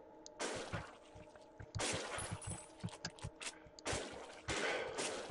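Bursts of shotgun fire in a zombie shooter video game, three loud separate blasts spaced over a few seconds with lighter clatter between, no talk heard.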